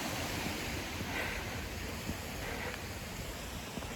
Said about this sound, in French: Petit ruisseau comme ça,